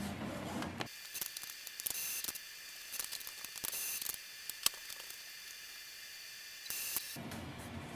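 An Epson WF2860 printer runs its printhead cleaning cycle, giving quiet mechanical whirring and faint intermittent clicks and ratcheting, with louder motor bursts at the start and end.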